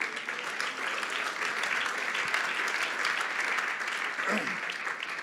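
A church congregation gives a loud, sustained round of applause during a sermon, the clapping steady and dense throughout with no pause.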